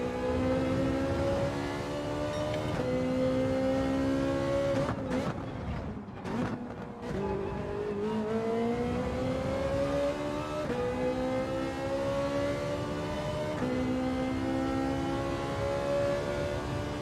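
A Ferrari race car in Gran Turismo 7 accelerates hard, its high engine note climbing through the gears with brief dips at shifts, loud and continuous for the whole stretch.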